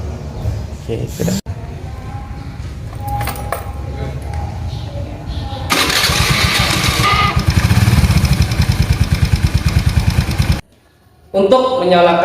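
A motorcycle engine is cranked with its electric starter and catches, settling into a loud, rapid, even idle that then cuts out. Brief clinks and handling noises come before it, and a voice returns at the end.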